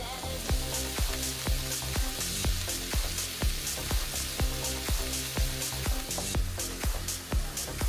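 Ground meat and onions fry for chili in a pan, a steady close sizzle with regular scraping strokes from a spoon breaking the meat apart.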